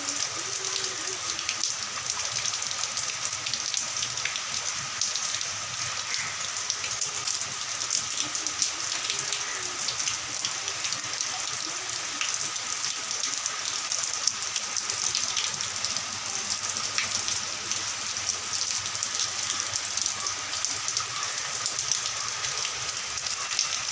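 Heavy rain pours down in a steady, dense hiss of drops striking surfaces, continuous and fairly close, with no voices standing out over the downpour.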